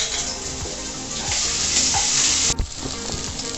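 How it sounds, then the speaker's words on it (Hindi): Garlic dropped into hot oil while making Hakka noodles, a loud, bright, hissing sizzle that swells and stays steady, with a brief dip and sharp clatter near the end; no speech. "लहसुन डालेंगे"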